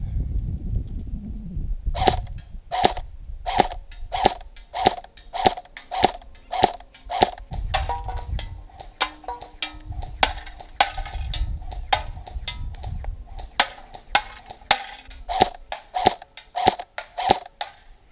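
An Umarex Tavor TAR-21 airsoft rifle fires a long series of sharp, evenly spaced snapping shots at a target 50 feet away, some twenty crisp pops in a steady rhythm, loud and close, with a faint low rumble of handling underneath.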